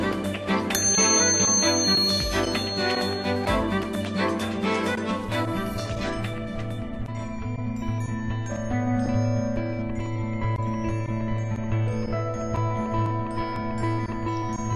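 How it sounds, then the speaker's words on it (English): Bright, repeated dings from a Schwinn bicycle bell ring out with a long shimmering decay, the strikes dense at first and then giving way to a sustained ringing tone. "And there's our bell."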